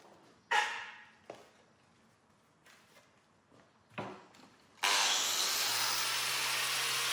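A flap disc grinding tough steel cut from a huge bearing. A few scattered knocks and clatters come first, then the grinder bites in with a loud, steady, harsh roar over a low motor hum.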